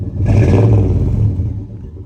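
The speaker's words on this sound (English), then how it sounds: "Chevy 350, it is the best engine sound in the entire world." A loud, deep Chevy 350 V8 engine rumble through dual exhaust revs up briefly, then settles and fades off, heard close by with no talking.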